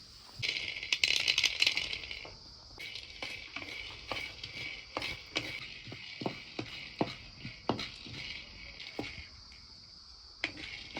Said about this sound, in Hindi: सबसे पहले ये मूँगफली के दाने भूनेंगे